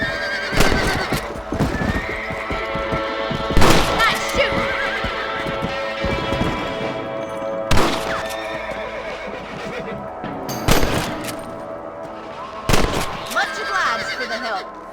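Horses in the video game Red Dead Redemption neigh and whinny loudly several times while hooves clop steadily beneath, with sharp percussive bursts that sound like gunfire and a voice talking over parts of it.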